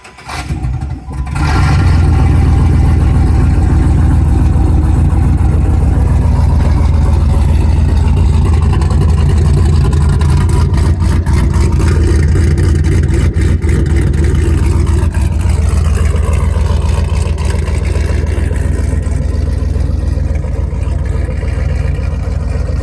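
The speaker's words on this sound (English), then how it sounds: "start it up, and we'll have it idle for just a little bit and rev it up a few times" Jeep LJ engine in an extreme build turning over and catching, then running loud and close at a steady idle with heavy low rumble, a few throttle swells rising over about twenty seconds, no talk.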